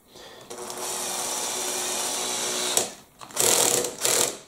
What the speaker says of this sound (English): here you can just hear the torque on the drill kicking in